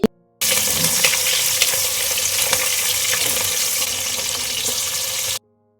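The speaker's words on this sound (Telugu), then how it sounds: "ఒక ఆనియన్ సన్న స్లైసెస్గా కట్ చేసి యాడ్ చేసుకోవాలి ఇంకా అలానే కారానికి తగ్గట్టు పచ్చిమిర్చి యాడ్ చేసుకోవాలి" Thinly sliced onion and green chillies fry in a pan with a dense, even sizzle that starts abruptly, holds steady for about five seconds, then cuts off.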